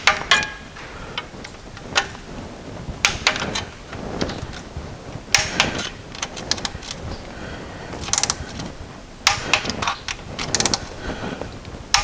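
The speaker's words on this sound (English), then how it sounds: "And I torque those to 21 Newton meters." Torque wrench tightening bolts to 21 newton meters during a rear crankshaft seal replacement on a Volvo, giving repeated sharp ratcheting clicks in short bursts, close and fairly loud, with no talking.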